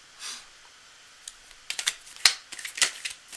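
A deck of cards is shuffled close by, a faint rustle at first giving way to a quick run of crisp riffling clicks and snaps, with no talking.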